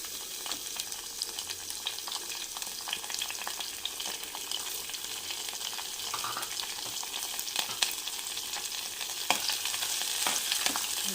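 Onions, green chillies and curry leaves frying in oil in a pan for a clove bean curry, a steady close sizzle running throughout with occasional stirring scrapes.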